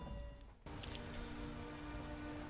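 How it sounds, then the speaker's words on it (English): Steady rain patters across surfaces in the game Skyrim, a dense continuous hiss that drops out briefly near the start and then resumes at an even level with no voices. "it's still raining a little bit in the morning"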